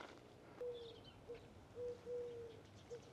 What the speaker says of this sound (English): Collared dove calling somewhere up there.